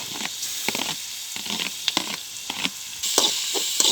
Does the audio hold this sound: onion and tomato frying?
yes